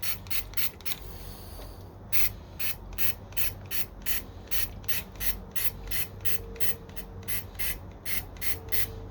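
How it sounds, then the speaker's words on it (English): A rattle can sprays paint onto a Nissan Xterra grille in a rapid series of short, sharp hissing bursts. The bursts come close together in an uneven rhythm, with brief pauses between them. "This is where a little touch-up gun comes into as well if you're just spraying paint."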